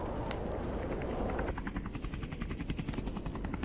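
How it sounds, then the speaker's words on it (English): Helicopter in the VRChat game Spider Lair, a steady loud rotor thrum with rhythmic blade chop that grows more pronounced partway through, heard alone without talk. "Let's hop onto that helicopter and hold on"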